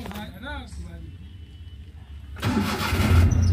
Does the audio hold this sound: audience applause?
no